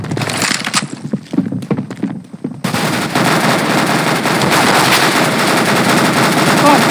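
Gunfire in the game CS:GO, loud rapid automatic bursts that settle into a dense continuous rattle, with a voice heard briefly over the early shots.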